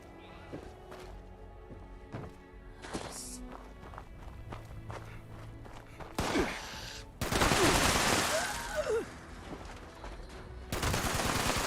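Enemy gunfire in Fallout 76, a burst of rapid shots that comes in loud near the end amid footsteps and other game sounds, after quieter scattered impacts earlier.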